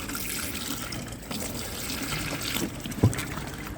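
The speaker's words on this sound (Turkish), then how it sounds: "son aşamada bolca su vererek çalışmamızdan sonra" Plenty of water is poured into a drain freshly cleared with a chemical drain opener, a steady rushing, trickling wash that stays close, with one brief knock near the end.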